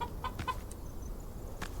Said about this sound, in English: There are 2 free-range chickens here.